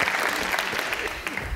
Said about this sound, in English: Give Richard a clap.